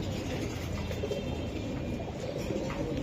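Racing pigeons coo in a noisy loft or market, a low steady murmur of birds under a constant rumbling background, with no clear single calls standing out.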